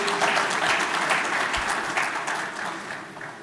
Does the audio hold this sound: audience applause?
yes